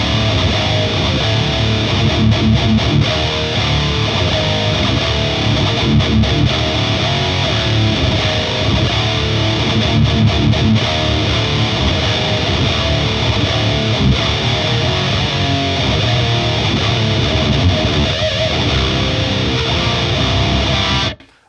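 Electric guitar through a TONEX One pedal chained into a TONEX pedal and a 4x12 cabinet, played as a dense, continuous, heavily distorted riff at loud volume for about twenty seconds, cutting off at the end.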